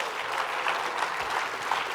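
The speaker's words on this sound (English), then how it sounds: "Bigger round of applause," Audience applause during a standing ovation at a motivational business seminar, a steady, even roar of many hands clapping together at close range for a couple of seconds.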